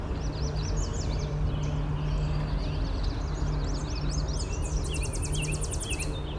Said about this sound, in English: There's a Tennessee warbler.